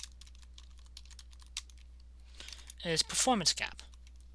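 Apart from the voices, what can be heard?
typing on a computer keyboard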